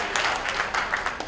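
A short burst of crowd applause at a Dragon Con 2015 panel, many hands clapping together in a dense, moderately loud patter.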